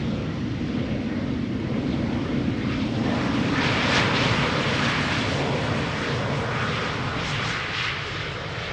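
An airliner lands at Amsterdam Schiphol Airport, its jet engines a loud, steady, broadband roar that holds throughout with a slight swell in the middle, no voices.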